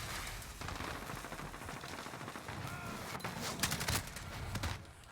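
Video game gunfire from a Modern Warfare match, a sustained fusillade of rapid shots and bursts running throughout at moderate loudness, with denser cracks toward the end.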